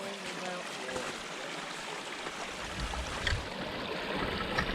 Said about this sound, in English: Stream coming down the mountain.